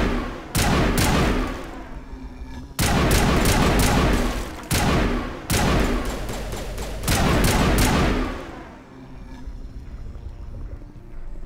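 Automatic gunfire crackles in Mass Effect Legendary Edition, several loud sustained bursts of rapid shots separated by short pauses, the last trailing off into quieter ambience, no speech.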